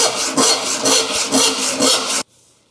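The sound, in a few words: hand saw cutting through a wooden board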